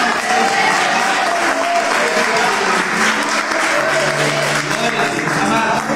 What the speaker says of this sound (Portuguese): Quem crê aplaude e glorifica.